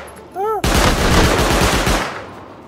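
An auto turret in the survival game Rust fires a rapid, loud burst of automatic gunfire lasting over a second, each shot closely spaced. A short rising and falling tonal whine plays just before the burst begins.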